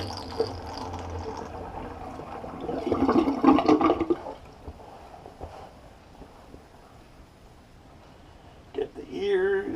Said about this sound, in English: Just going to drain my sink.